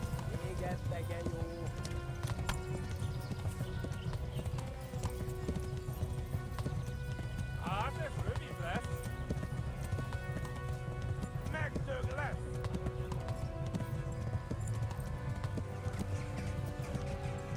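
Pursuing horses gallop in Kingdom Come: Deliverance, a dense, continuous drumming of hooves with a couple of whinnies partway through, while voices talk on top throughout.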